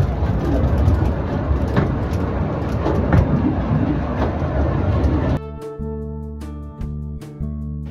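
The Busselton Jetty train rumbles close by, rattling loudly, then gives way to a quieter humming interior with occasional clicks.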